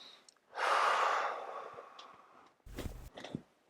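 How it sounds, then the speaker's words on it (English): A patient exhales strongly during a chiropractic adjustment to the sternum area, one long close breath out followed by a short thud and softer breaths. "Breathe out."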